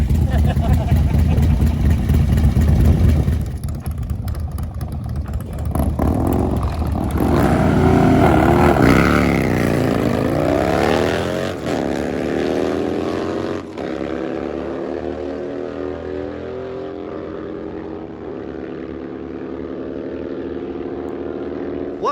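Drag racing motorcycles, a Harley among them, roar loudly off the line and fade into a sustained, receding engine whine over a crowd and commentator talking throughout.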